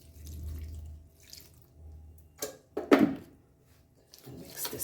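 A little water poured into a makki ka atta mix of cornmeal and salt, heard as short close splashes and trickles with quiet gaps between them, no talk.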